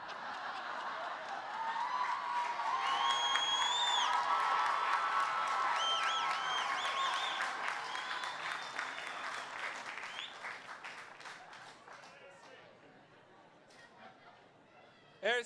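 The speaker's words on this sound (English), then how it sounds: "Please do not hold your applause." A commencement crowd applauds and cheers graduates coming forward for diplomas, sustained clapping with scattered whoops and chatter that gradually thins toward the end.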